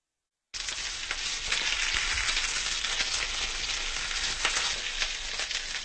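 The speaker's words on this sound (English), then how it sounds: "When the frying pan has warmed up, place the fillets inside with the skin facing down." Chicken fillets sizzle skin-side down in an oiled frying pan on medium heat, a loud, even crackle that starts abruptly and continues steadily, heard close up with no talk.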